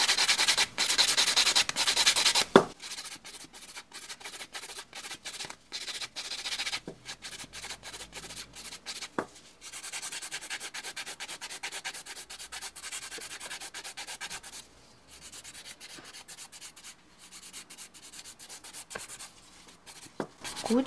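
Nail file rubbing sideways along the edge of a fingernail in quick, even back-and-forth strokes, close and soft, continuous with brief pauses and no voices.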